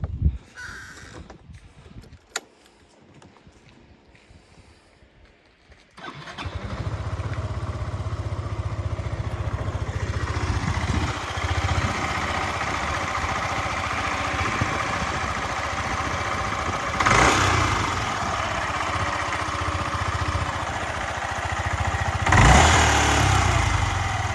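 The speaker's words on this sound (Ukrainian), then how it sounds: "Гарно працює двигун, ніяких зайвих звуків я не чую взагалі." A stock Yamaha Majesty 155 S scooter engine idles in a steady, even drone after a quiet opening of about six seconds, with a few louder surges later on and no voices.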